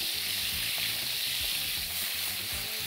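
Beef sizzling and frying in a hot pan while being turned so it cooks through; a dense, even hiss continues throughout with faint stirring knocks underneath, no voices.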